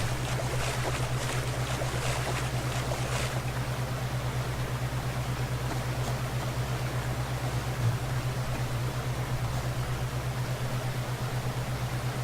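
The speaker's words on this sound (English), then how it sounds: "Wow, that got really loud really quick. That waterfall did." A waterfall in the survival video game Subsistence gives off a steady, dense rushing roar over a constant low hum. It holds loud and unchanging throughout, with no speech.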